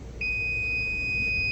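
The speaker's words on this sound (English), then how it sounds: "You hear a little beep" A UFO-Sense detector gives a single sustained electronic tone right after being plugged in, a clear steady pitch that starts sharply and holds over a low background hum.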